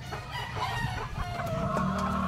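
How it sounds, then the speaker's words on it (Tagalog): A rooster crows nearby, its drawn-out call rising clearly over faint outdoor background noise. "Manok natin dito."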